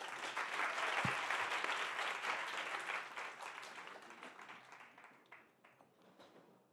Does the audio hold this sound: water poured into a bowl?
no